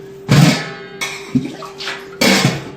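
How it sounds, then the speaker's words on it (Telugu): Water poured over washed parboiled rice in a bowl for soaking, heard as three separate splashing pours, close and loud, with short pauses and a faint steady hum between them. "ఇప్పుడు వీటిలో నానబెట్టుకోవడానికి నీళ్ళు పోసుకుందాం"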